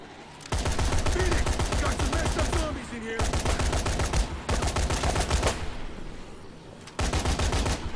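Assault rifles fire in Dead Rising 3, loud sustained automatic bursts in several long strings separated by short pauses, with faint game sounds in the gaps.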